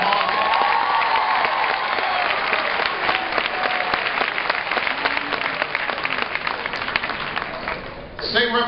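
Sustained applause from a large crowd in a high school gathering fills the space for several seconds for the police superintendent, dense and even, with scattered cheers mixed in before it tapers off at the end.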